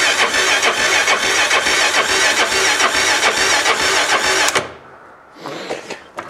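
A car engine with a previously frozen battery cranks loudly and steadily for several seconds, then cuts off; after a short pause it catches again with a rougher, quieter running sound.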